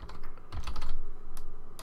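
Quick typing on a computer keyboard while playing Minecraft, a brisk run of close, crisp key clicks with short pauses and no voice over it.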